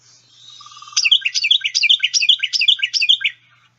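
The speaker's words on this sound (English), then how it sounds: "And one more time, here's our Carolina wren." Carolina wren belting out a clear, loud song of about six repeated rolling phrases in a steady rhythm, preceded by a faint thin trill, heard alone without voices.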